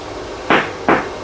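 Two sharp, loud hammer blows strike sheet metal on a 1970 Pontiac GTO trunk floor, about half a second apart, with quiet room noise around them.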